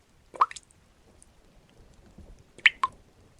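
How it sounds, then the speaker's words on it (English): Water drips inside a quiet house: two sparse clusters of small, sharp wet plinks and squishy droplets separated by near silence, close and alone. "the dripping continued behind him, steady and unchanged"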